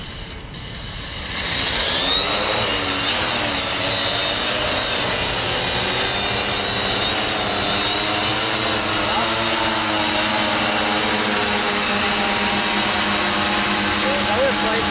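Drone on ZEAL 18 inch propellers spinning up to a loud, steady whine and whir that holds close and constant, with a faint rising tone layered on top and no speech over it.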